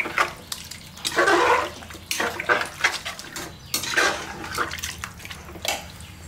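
A spoon scrapes and clinks against a metal pressure cooker while stirring wet rice for country chicken biryani, in irregular bursts of sloshing and scraping.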